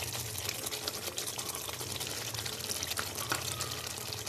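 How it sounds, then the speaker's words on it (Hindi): Cream poured into chicken karahi in a cooking pot, a soft continuous liquid trickle and light bubbling at low volume, steady with small splashy ticks and no talking. "अब हम इसमें डालेंगे क्रीम"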